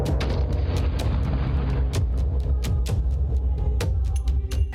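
Heavy continuous rumbling roar with repeated sharp cracks and thuds, the loud aftermath of a bomb explosion close by at a mosque in Kandahar, Afghanistan.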